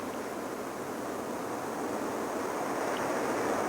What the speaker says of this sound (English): I'm pouring water all over myself.